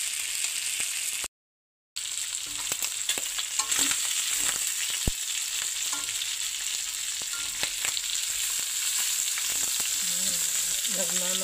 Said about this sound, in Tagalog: Nag-start na nagmantika.